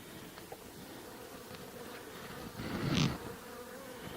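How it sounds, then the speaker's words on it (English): Close buzzing of worker honey bees hums throughout, swelling into a louder burst near the end as a hive is opened, with no talking. "Just some worker bees right now."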